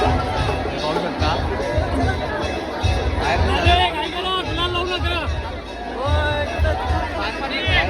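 A dense crowd at the Vajreshwari Devi palanquin procession, an annual temple fair, fills the air with constant overlapping chatter and shouts, close and busy, steady in loudness throughout.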